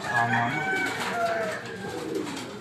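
Racing pigeons arriving at a loft after the first lap of a derby coo in rough, warbling calls at close range, with a brief trill over faint background noise.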